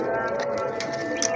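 Big breeder pigeons of a pure show strain coo in a loft, with soft repeated coos over a steady background hum and a few brighter chirps near the end.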